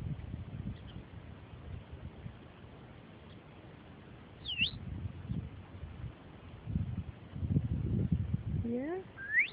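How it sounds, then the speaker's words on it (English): A bird outside gives a few thin, brief chirps at a distance, one near the middle and a quick rising series at the end, over quiet low rumbling background noise. "It's a birdie, huh?"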